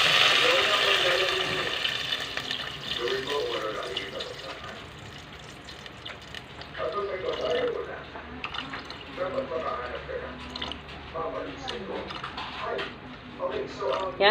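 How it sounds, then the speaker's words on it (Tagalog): Water pours and splashes into a pot holding hotdog and carrots for Filipino-style ramen, a continuous running stream with gurgling, fairly close, with a voice talking over it. "Lalagyan na po natin siya ng tubig."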